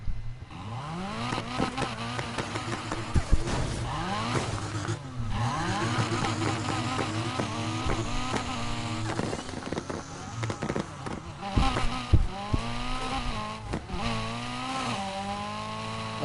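A car engine in Need for Speed Heat revs hard and continuously while racing a Porsche, pitch climbing and dropping repeatedly through gear shifts, loud and close throughout.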